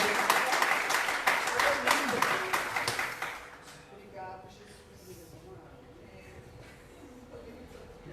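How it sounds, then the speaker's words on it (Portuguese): A congregation at a Noite Profética church service claps in a fast, steady rhythm for about three seconds, then the clapping stops and a voice speaks over quieter room sound. "E as palmas louvam ao Teu santo nome, Deus"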